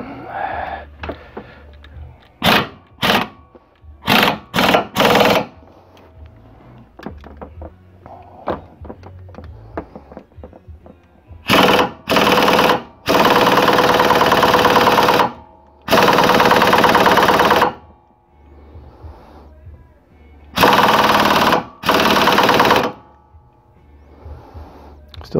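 Sharp metal blows and long, loud rattling bursts of hammering drive out an old ball joint on a 2003 Dodge Durango, striking in irregular rapid clusters close up with quiet pauses between.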